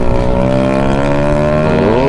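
Loud vehicle exhaust with a deep, droning engine note and rich harmonics, holding close and steady for about two seconds as it passes, with no talking.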